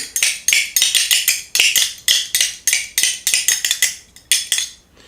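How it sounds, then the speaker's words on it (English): Spoons played as a percussion instrument rattle and clack in quick, uneven bursts of bright metallic clicks, close and fairly loud, with short pauses between flurries and no talking. "It's called Playing the Spoons"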